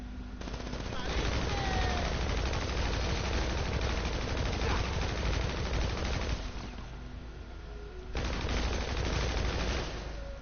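Rapid automatic gunfire from GTA 5 Online rattles in dense, continuous bursts with a short lull near the end before firing resumes, loud and steady throughout.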